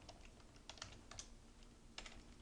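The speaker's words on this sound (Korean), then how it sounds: "키보드" Keys clatter on a computer keyboard in short, irregular bursts of clicks, faint and close, with no talk.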